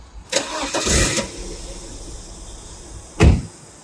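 A 2002 BMW 318Ci convertible fires up with a short starter churn and catch, followed by a quieter idle and a brief mechanical thump near the end, close by.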